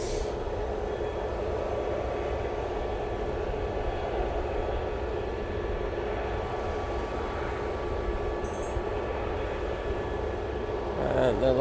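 An airliner departing at Manchester Airport, a steady broad engine roar that holds throughout from a distance, with a voice speaking faintly over it.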